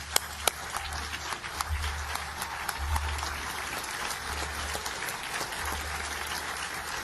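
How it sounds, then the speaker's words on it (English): Audience applause and a standing ovation at a speaking event, moderate scattered clapping with a few sharp individual claps and a low rumble of movement underneath, fairly distant and steady. "let's give Martin a great, great round of applause. Give him a standing ovation."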